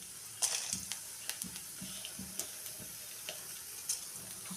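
Whole fennel, cumin, clove, cinnamon and cardamom dropping into hot oil give a steady low sizzle, with a few sharp crackles and pops scattered through it and no voices.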